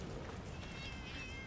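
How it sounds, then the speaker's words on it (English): Cartoon cats meow faintly in Monster Hunter Generations Ultimate on Nintendo Switch. Their high, thin calls overlap softly above steady game background noise. "Oh my god, these cats are going to get so annoying."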